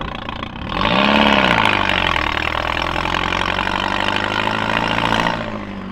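A TT car engine starts up, surges briefly, then settles into a steady, loud close-up idle that runs for several seconds before cutting off.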